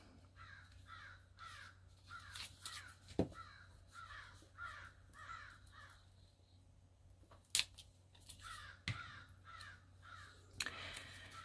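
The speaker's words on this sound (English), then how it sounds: "Birds sound unhappy about something." Crows cawing repeatedly in rhythmic bursts, moderately distant, with a few sharp clicks and knocks in between.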